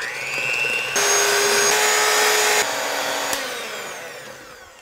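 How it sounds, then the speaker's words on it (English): An electric hand beater whirs through egg yolks and sugar in a bowl with a steady, close motor whine that rises in pitch at one point and then settles back down. "we just want to use the beater to get these mixed well"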